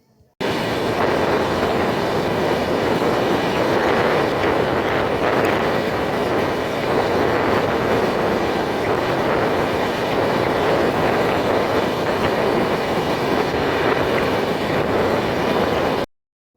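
Ruposhi Bangla Express passenger train on the Dhaka to Benapole line rolling along the rails near Kashiani Junction, a loud, steady rumble with rhythmic clickety-clack from the wheels throughout, no voices.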